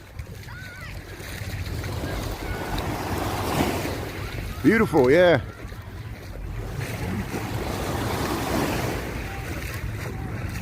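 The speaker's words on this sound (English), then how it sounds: "Hey, look at these waves." Waves rolling onto North Avenue Beach on Lake Michigan in Chicago, a steady broadband wash with wind buffeting the microphone throughout, while someone speaks briefly and another voice answers near the middle.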